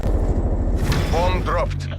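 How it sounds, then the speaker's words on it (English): A heavy explosion booms in the Saints Row video game, a loud low rumble followed by rolling debris noise, with a radio-style voice speaking over the tail. "Bomb dropped."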